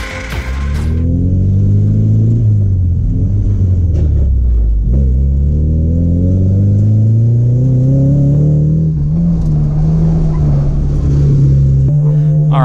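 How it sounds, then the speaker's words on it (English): A drift car's engine revs hard at close range, its pitch climbing and dropping as the driver flicks the throttle on and quickly backs off, loud and sustained throughout. "You got a little flick, a little throttle, but then you backed off the throttle almost instantly"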